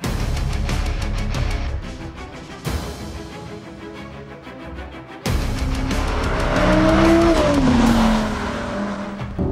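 Loud engine of a 2023 Audi R8 Performance driven hard, with rising and falling revs, gear changes and a heavy braking phase, sounding close and continuous throughout.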